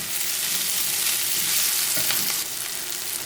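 Onions fry in butter in a pan with a loud, dense sizzle and crackle that holds steady, together with a few stirring scrapes, then eases slightly toward the end as the heat is turned down.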